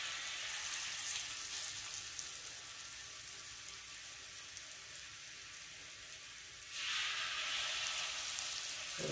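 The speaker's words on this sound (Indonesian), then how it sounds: "Setelah itu kita mau goreng tuh dengan ini yang kental ya" Shrimp in thick batter frying in hot oil, a steady faint crackling sizzle that grows noticeably louder and brighter near the end as more pieces go into the pan, with no talking.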